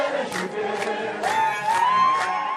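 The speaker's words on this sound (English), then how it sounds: "the crowd, who roared on their neighbours preparing for war" A crowd of people in Addis Ababa, Ethiopia, roars and cheers on volunteers readying for war, a steady loud wall of massed voices with swelling shouts.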